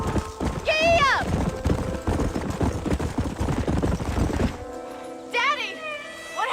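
A horse in Red Dead Redemption gallops with a quick, steady clip-clop of hooves under loud talking, with a high whinny near the start and another near the end after the hoofbeats drop away.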